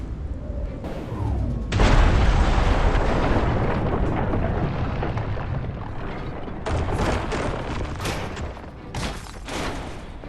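Mothership blown up in the video game Destroy All Humans 2, a loud sustained explosion with a roaring blast and crackling debris, followed by further bursts of detonations.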